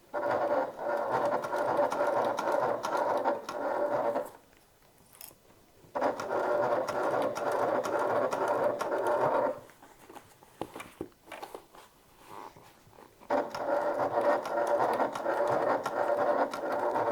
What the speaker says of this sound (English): go ahead and start stitching 1/8 of an inch from the raw edge